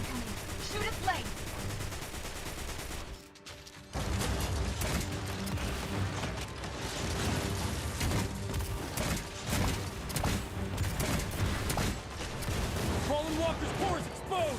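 Heavy gunfire in a video game fight against a Fallen Walker, with rapid bursts and scattered shots crackling loudly and continuously, broken by a brief lull, while voices talk over the shooting.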